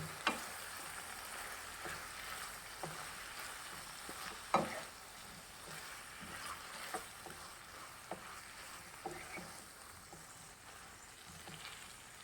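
Onion stirred and frying in a pan for a Goan beef chilli fry, a steady soft sizzle broken by scattered scraping knocks of the utensil, one sharper clack near the middle, fairly quiet and with no voices.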